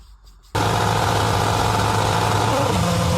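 A motorized shopping-caddie race car at the Welkenraedt caddie rally starts up abruptly after a quiet moment, its engine droning loud, steady and close as it sets off.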